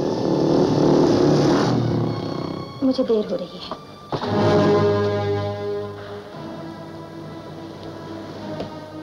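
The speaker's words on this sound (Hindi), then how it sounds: "यह आवाज शायद तुम्हारी सहेली की मोटरसाइकिल की है।" A motorcycle engine revs loudly outside in an old Bollywood film scene, a sustained throaty roar with surging pitch that dips and swells again, while a voice speaks briefly over it.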